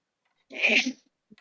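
One short, sharp sneeze bursts out close by, followed by a faint rustle.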